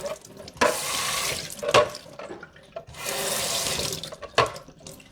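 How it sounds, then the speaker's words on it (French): Running tap water rinses a juicer part under a faucet, a steady splashing flow in two long bursts with brief clunks of handling between them, no talking. "je rince ça tout de suite"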